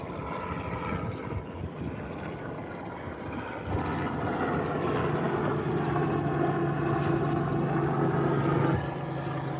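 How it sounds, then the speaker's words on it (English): A helicopter flies over a bay during a shark and orca watching boat trip, a steady rumbling drone of rotor and engine noise that grows slightly louder partway through, mixed with boat and wind noise. "Let's see if this helicopter stops anywhere."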